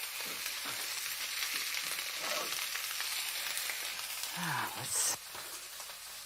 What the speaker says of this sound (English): We are left to sear the meat.